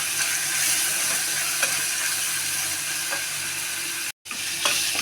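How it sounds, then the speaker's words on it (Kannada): Tomatoes fry in a pan for menthya bele sambar, giving a steady close sizzle with faint stirring scrapes and a brief dropout near the end. "ಟೊಮೊಟೊ ಹಾಕಿಬಿಟ್ಟು ನಾವು ಸ್ವಲ್ಪ ಈ ಥರ ಫ್ರೈ ಮಾಡ್ಕೊಳ್ಳೋಣ"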